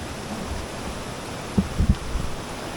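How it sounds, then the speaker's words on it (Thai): A small side stream flows past a campsite at Doi Inthanon during flood season, giving a steady, close rushing wash of water with a few soft thumps near the end and no voices. "อันนี้เป็นลำธารแยกนะ น่าจะไม่แรงเท่ากับลำธารใหญ่"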